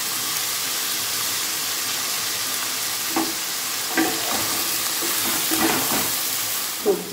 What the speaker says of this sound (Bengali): সবজিটা একটু ভাজা ভাজা হয়ে যায়